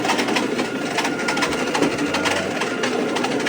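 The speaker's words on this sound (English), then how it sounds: "now I'm going to go ahead and get this machine going" A floor stripping machine runs on a wet VCT floor, a loud, steady motor drone with a constant scrubbing hiss close by, no talking.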